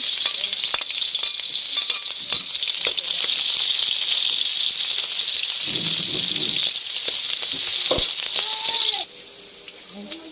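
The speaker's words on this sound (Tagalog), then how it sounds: "Tayo po magsisimula na maggisa. sibuyas at bawang." Onion and garlic sautéing in cooking oil for a squash and crab dish: a loud, steady broadband sizzle that fills most of the clip, then drops sharply near the end, with occasional clicks and stirring.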